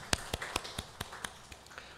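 Sparse clapping from a small church congregation celebrating two members' birthdays during an online Sunday service, a handful of separate sharp claps spaced unevenly and fading slightly, heard alone without speech.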